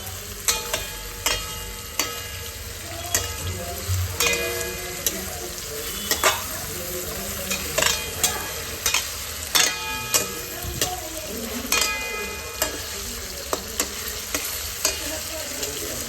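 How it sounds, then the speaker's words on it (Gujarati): Vegetables and pasta sautéing in a pan at home, with a steady sizzle broken by repeated scraping stirs of a utensil against the pan, close and continuous with no talk. "હવે આ બધાના સાથે હું સાંતળી દઈશ."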